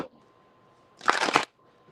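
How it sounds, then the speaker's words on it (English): Tarot cards being shuffled by hand in a quick burst of riffling and flicking, loud and close, lasting about half a second against a quiet room hum. "Let me just do a quick shuffle real quick."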